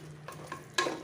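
A spoon stirs drumstick and potato curry with turmeric and garam masala in a hot pan, giving a few soft scrapes over a faint sizzle.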